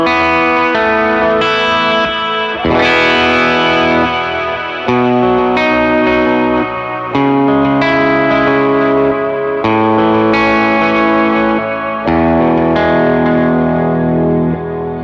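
Overdriven electric guitar through an Overdriver pedal with a wet echo and reverb effect added, playing continuous sustained distorted chords that blur into each other with a lingering tail, loud and alone.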